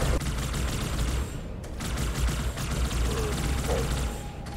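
Dense, continuous gunfire from a Halo video game battle, rapid bursts layered into a steady loud clatter with no pauses across the whole stretch.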